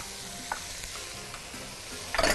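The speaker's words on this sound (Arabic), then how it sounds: "هنقلب كده تقليبه حلوه" Pumpkin soup with carrots being stirred in a pot, a few soft scraping strokes against a low background hiss, ending in a louder, brighter burst of stirring.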